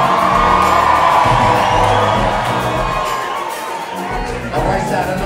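Concert crowd on the left side of the room at a show at The Vogue, a loud sustained roar of cheering, whooping and shouting that eases slightly then swells again.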